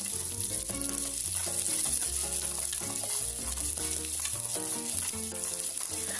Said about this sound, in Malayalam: എന്നിട്ട് ഇതെല്ലാം കൂടി നന്നായിട്ട് ഇതിൻ്റെ ഒരു റോ സ്മെല്ല് മാറുന്നത് വരെ നന്നായിട്ട് വഴറ്റി കൊടുക്കുക.